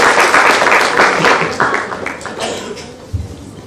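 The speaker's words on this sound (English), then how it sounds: "I think we need a big round of applause" Audience applause for conference panelists at an inaugural session, a loud, dense burst of many hands that gradually thins and fades toward the end.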